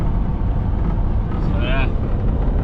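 A third-generation Toyota 4Runner in fifth gear at highway speed, with a steady loud road and engine drone and wind rumble throughout, and a brief high squeal near the middle.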